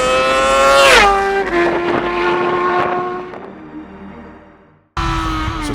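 A 2020 Honda CBR 1000RR Fireblade SP motorcycle with an Akrapovic exhaust screams loud and close, its pitch falling as it passes, then cuts out abruptly before roaring back.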